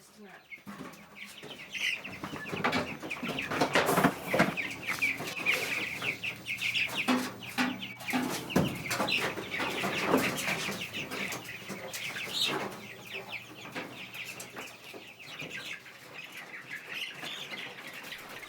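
Chickens clucking and flapping their wings inside a chicken coop on a homestead, with busy, overlapping calls that stay fairly close and steady throughout.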